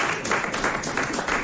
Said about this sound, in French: il y a eu quelques applaudissements à gauche